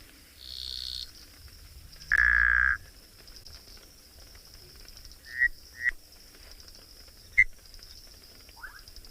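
A plain grass frog calls at dusk in the wild: short croaks and chirps spaced apart, fairly distant, over a quiet background of faint insects and a steady high-pitched hiss.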